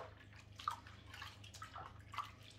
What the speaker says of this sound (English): I just kind of get it in the water and I swish it around.